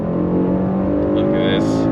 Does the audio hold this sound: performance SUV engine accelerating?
yes